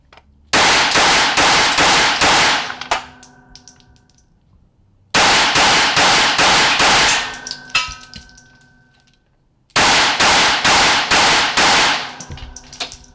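Three fast strings of shots from a Glock 42 pistol firing Federal 90 grain Hydra-Shock low-recoil hollow points, each burst of about five loud, sharp reports with ringing decay and pauses between strings.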